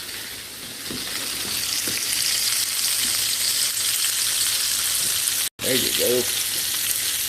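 Battered onion rings fry in hot oil in a pan on a home stove, a steady loud sizzle throughout with a brief cut near the end, while someone speaks briefly.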